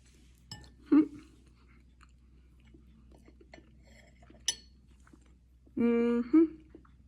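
Crumbly, dry cornbread dressing made with bacon grease being chewed close up, a few soft crunchy bites spread out with pauses, plus a brief voiced sound near the end.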